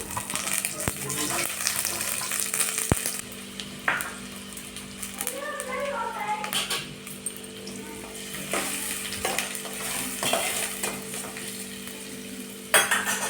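Masala and finely chopped ginger fry in ghee in a pan, a steady close sizzle with repeated scraping and stirring of a utensil against the metal over about thirteen seconds, and a brief louder clatter near the end.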